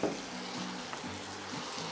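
Vegetables sizzle and fry in a hot pan while being stirred, a continuous crackling hiss with soft scraping strokes and no voices.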